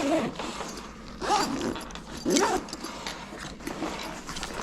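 A zipper drawn along a Vacpack backpack, producing three or four quick rasping pulls with short pauses between them, heard up close and at a moderate level, with no voices.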